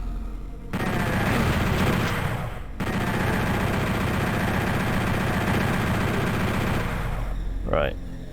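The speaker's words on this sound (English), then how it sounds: "I'm gonna get out my chain gun" Rapid chain gun fire in the PS1 version of DOOM, a loud, dense stream of shots running almost without pause for several seconds, broken by one brief gap, under layered game noise and music.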